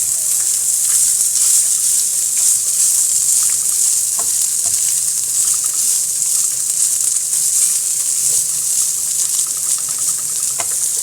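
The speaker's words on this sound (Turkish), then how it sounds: "Domates sosum da burada pişiyor." Tomato sauce simmers and sizzles in a pan, a steady close-up frying hiss running unbroken for about eleven seconds, with a few faint clinks.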